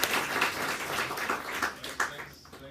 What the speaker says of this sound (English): please give a big round of applause for Siim Land